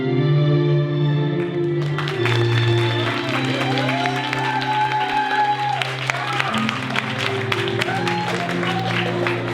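A seated audience applauds after a youth dance group's show at a community arts centre, a dense, steady wash of clapping with crowd noise, while a voice talks over an amplified, sustained tone.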